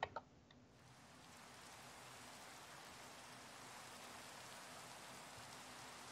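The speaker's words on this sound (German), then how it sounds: "Regen." Rain falls in the Minecraft video game with shaders: a soft, steady hiss of many drops patters continuously and evenly at low volume after a brief quiet start, with no voices.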